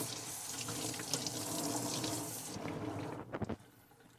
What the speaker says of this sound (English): We'll go ahead and rinse.